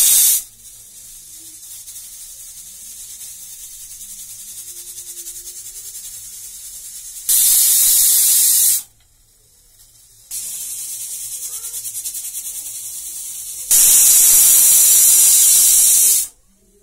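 A pressure cooker on a gas flame, cooking mustard greens saag with spinach and bathua, lets out two loud, sharp hissing whistle bursts of steam between stretches of quieter steady hiss.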